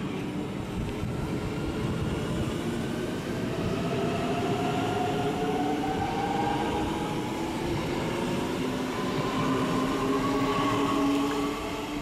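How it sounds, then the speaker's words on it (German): Two-car DB Class 440 electric multiple unit moving through Würzburg Hauptbahnhof, a continuous loud rolling rumble with drawn-out rising and falling whines from the traction motors and wheels, and no voices. "Dieser doppelteilige 440er fährt über Kitzingen-Neustadt-Aisch den direkten Weg in die Frankenmetropole Nürnberg"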